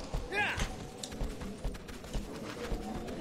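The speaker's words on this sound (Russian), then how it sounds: "Лошадь, скачи." Horse hooves clop in a quick galloping rhythm through the Shadow of the Colossus game, with a brief whinny early on and someone talking quietly over the steady hoofbeats.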